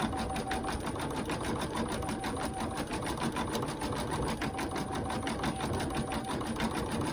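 A home sewing machine runs steadily and close, a fast even whir with a rhythmic stitching tick that never pauses, while a possible bobbin problem makes it sound off.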